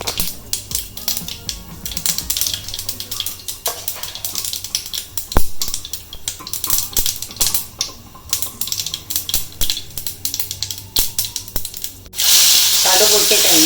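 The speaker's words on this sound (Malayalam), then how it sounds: "കടുക് പൊട്ടാൻ തുടങ്ങിയേ." Mustard seeds crackle and spit in hot oil in a pan while a Malabar squid fry is being made, a dense run of sharp pops and sizzle up close, ending in a louder steady hiss.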